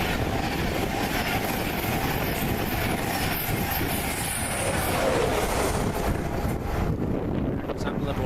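An East Coast Main Line train rolls past a station in the East Midlands with a steady, loud rumble and rail clatter, buffeted by heavy wind noise on the microphone throughout.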